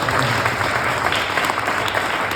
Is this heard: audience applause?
yes